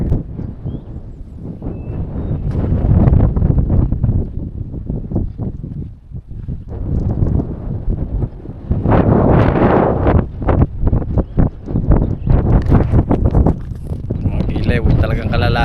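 Strong wind on the Gaspé coast buffets the microphone in heavy gusts throughout, with people talking underneath the roaring rush.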